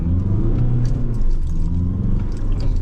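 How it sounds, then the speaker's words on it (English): A diesel manual car pulls away in first gear at about 2000 RPM, its engine a loud, steady, close rumble throughout. "First gear, handbrake up, get the clutch, RPM, 2000 RPM, boom!"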